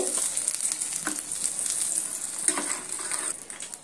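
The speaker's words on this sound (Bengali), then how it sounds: "এবার আমি একটা খুন্তির সাহায্যে এইভাবে ডিমটা ফোল্ড করব।" A spatula works an egg omelette in a hot frying pan during preparation of a Bengali omelette curry, giving a steady sizzle of frying with a few soft scrapes and taps against the pan, no talking.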